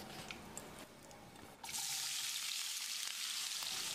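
Drained, chopped potato pieces drop into hot oil with curry leaves and asafoetida, setting off a sudden loud, steady sizzle that fills the pan after a quieter stretch.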